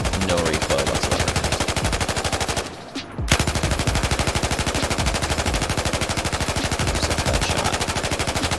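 An M249 SAW machine gun in Battlefield 4 rattles off long, rapid bursts of gunfire, loud and close, broken by a brief pause before the firing resumes.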